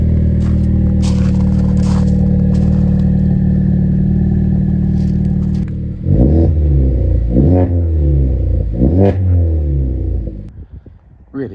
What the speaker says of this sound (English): start the car up for you